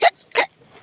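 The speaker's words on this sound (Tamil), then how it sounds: "சாப்பிடும் போது தான் வந்து இந்த விக்கல் துயரம் வந்து தொலையும்." A cartoon character eating fish curry gives two sharp, loud hiccups about a third of a second apart, close and isolated with near silence between and after them.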